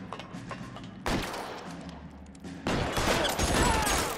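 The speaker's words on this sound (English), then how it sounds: "Everybody keeps shooting at Roy." Gunfire in the video game L.A. Noire, with sharp shots and a heavy burst of firing that rise to a loud, dense barrage in the second half.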